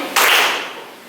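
One sharp, unified hand clap from a class of students playing a clapping game in a classroom, a crisp single crack that rings briefly in the room before fading.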